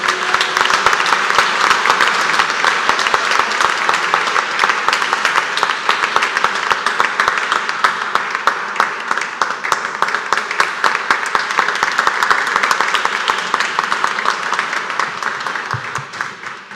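A church audience gives steady, sustained applause to welcome Mrs. Pascaline Atuguba as the evening's speaker. The dense clapping runs loud and even throughout, with no talk over it.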